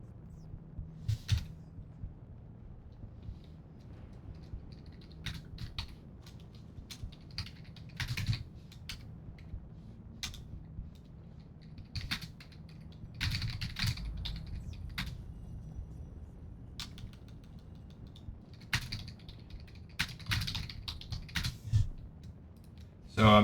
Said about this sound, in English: So I'm just typing it out.